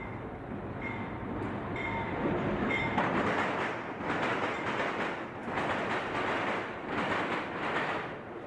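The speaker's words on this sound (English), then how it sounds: "This ore train from South Philly is on the Bethlehem secondary track." An ore train bound for a steel plant rolls along a secondary railroad track, producing a loud, steady rumble with rhythmic clatter from wagon wheels and brief high squeals near the start. No one speaks.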